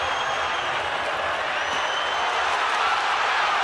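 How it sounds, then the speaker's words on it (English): A boxing arena crowd roars steadily for Paul McCloskey during a WBA 140lb title eliminator against Breidis Prescott, a dense, unbroken wash of cheering with a commentator talking over it. "The crowd getting behind McCloskey."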